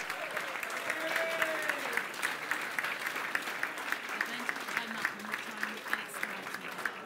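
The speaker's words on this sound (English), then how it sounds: "Can you give this gentleman a particular round of applause?" After a lot is sold at a charity charter auction, the room breaks into steady applause, moderately distant, with a few voices murmuring beneath the clapping.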